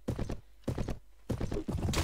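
Horse hooves clip-clop in a fast, steady galloping rhythm during a Clash of Kings battle, in close, loud bursts separated by short gaps.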